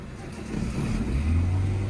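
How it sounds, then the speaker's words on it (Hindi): A manual car's engine is started on a hill-start driving lesson, low rumble rising and settling into a steady idle over about two seconds, close by. "वापस क्लच दबा के इंजन ऑन करो"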